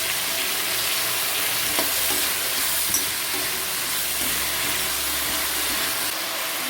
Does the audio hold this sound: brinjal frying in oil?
yes